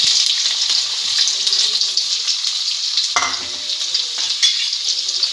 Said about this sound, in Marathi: आता आपण 3 मोठे चिरलेले बारीक कांदे टाकणार आहोत